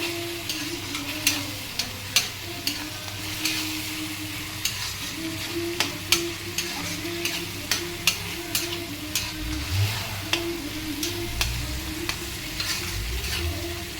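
Rajma curry masala with tomato fries steadily in oil in a pan, giving a continuous close sizzle broken by regular sharp ticks and scrapes as a spoon stirs it.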